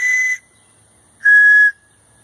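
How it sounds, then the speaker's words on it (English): Small survival whistle supplied with a Tops Baja 4.5 knife, giving two short shrill blasts, one near the start and one about a second later, loud, close and clean against silence. "As well as this nice little whistle."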